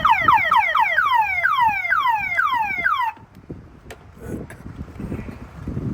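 A Honda car alarm gives loud, rapid, falling electronic chirps for about three seconds and then cuts off, leaving wind noise and faint rustling outdoors.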